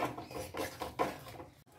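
A spoon stirs lemon juice into a dish in a cooking pot, giving soft, uneven scraping and clinking strokes that repeat quickly and sit close but fairly quiet.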